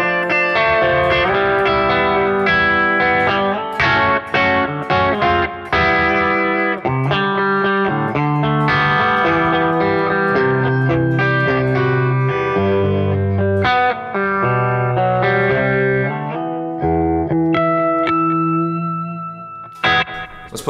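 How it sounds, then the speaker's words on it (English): Electric guitar playing chords and melodic lines through a doubler pedal, a TC Electronic Mimiq Mini, giving a swirling flanging effect, loud and continuous, with a sustained note ringing out at the end. "the flanging sound is still there, but you're starting to hear the separate guitar tones coming through."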